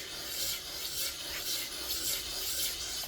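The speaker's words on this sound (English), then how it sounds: "let's just go ahead and grind it and see what we got here." A Work Sharp sharpener grinds the edge of a broadhead, giving a steady, close abrasive rasp with gentle pulses of pressure throughout and no talking.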